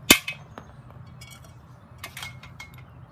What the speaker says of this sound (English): We're going to put the bolt in first.